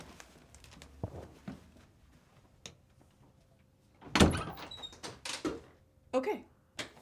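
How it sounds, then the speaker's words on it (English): A door thumps and rattles with several sharp knocks and clunks, the loudest burst near the end, close by and under occasional talk. "Come on, open the door."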